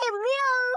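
A single drawn-out cat meow, close and clear, rising then falling in pitch, heard alone.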